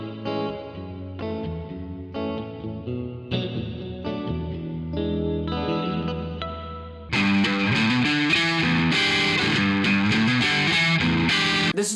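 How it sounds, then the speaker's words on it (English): Limited edition gold foil Fender Jazzmaster electric guitar in Shoreline Gold played through effects, sparse picked chords with chorus and echo building into a loud, dense distorted strum from about seven seconds on, no talk. "starting with this limited edition gold foiled Jazzmaster by Fender and Shoreline Gold."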